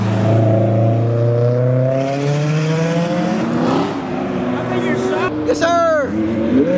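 An Audi R8 sports car accelerates hard and drives past at a Cars & Coffee meet in Morrisville, North Carolina, its loud engine note climbing steadily before a sharp rising sweep near the end, while a person speaks briefly.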